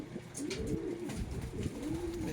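Racing pigeons cooing softly in repeated low throaty rolls at a loft after a 154 km fun race in Calauag, Quezon, with faint background noise and no speech.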